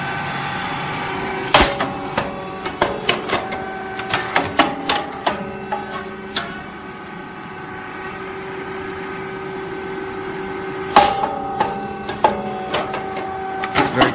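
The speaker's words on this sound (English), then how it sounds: "touch the sensor, the machine is moving again" A compact confectionery machine runs close by with a steady mechanical hum under sharp repeated clicks and clacks that come in two busy stretches, separated by a quieter gap where it nearly pauses.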